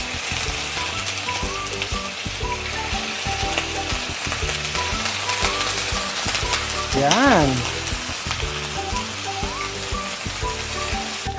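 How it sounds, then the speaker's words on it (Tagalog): Chicken pieces for honey glazed ginger chicken sizzle and crackle steadily in a hot pan, a loud continuous fry; a voice briefly says a word partway through. "prituhin lang po natin to 5 minutes per side ng manok"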